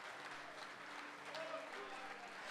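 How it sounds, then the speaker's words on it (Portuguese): Congregation applauding during a church service, steady broadband clapping at moderate distance, fairly quiet, with faint voices underneath. "Aplaudam ao Senhor."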